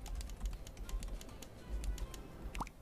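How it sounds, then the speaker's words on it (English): Rapid keyboard typing while spelling words in Scribblenauts Unlimited, a quick run of close, crisp key clicks with short pauses and a heavier clack near the end. "It's fucking hard typing with one hand."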